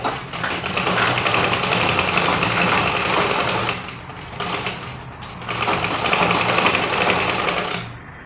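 A sewing machine stitches a bustier gown in loud, close, steady runs, with two brief slowdowns or pauses around the middle before it picks up again. No one speaks.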